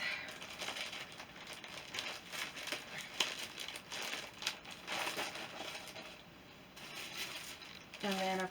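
Plastic bag holding yarn being handled, with irregular crinkling and rustling bursts that come and go, and a voice speaking briefly near the end.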